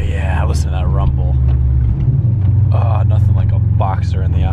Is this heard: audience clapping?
no